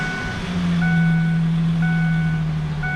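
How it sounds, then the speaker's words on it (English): A 2003 Ford Ranger engine runs at a steady, close idle with a low hum, while a dashboard warning chime beeps repeatedly over it. "Okay, so I'm going to be starting up the engine."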